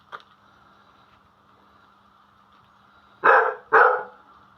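Two sharp, loud dog barks in quick succession near the end, after a faint yip at the start over quiet background hum.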